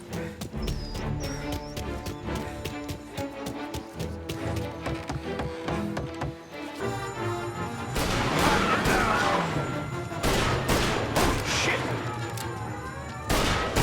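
Gunfire in Mafia Definitive Edition, the video game: a dense fusillade of loud shots with crashes and impacts, mixed with game music and police radio chatter, growing heavier and more chaotic in the second half.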